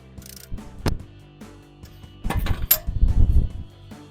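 A wrench works on a Bilstein 5100 front shock bolt of a Silverado or Sierra 1500 from below, giving a few sharp metallic clicks and ratcheting clatters in short irregular bursts, close and otherwise quiet.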